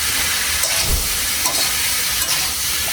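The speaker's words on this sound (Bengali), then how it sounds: "এখন মশলার সাথে কপিটা ভালো করে কষায় নিব।" Cauliflower fries with spices and ground cumin in a pan, giving a continuous close, loud sizzle and steamy hiss with faint stirring knocks. No voices are heard.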